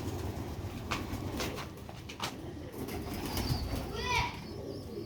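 A Sialkoti Ali Wala breed pigeon calls softly amid steady background noise, with a few brief, higher calls of other birds around the middle.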